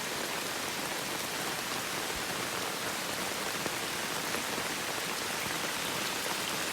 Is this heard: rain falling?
yes